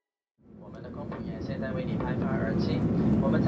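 Air Canada jet taking off from a runway, heard from inside the cabin: a steady low engine roar swells from silence and builds louder over a few seconds, with no talking.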